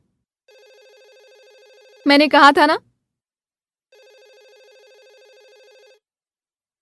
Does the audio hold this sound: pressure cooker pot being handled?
no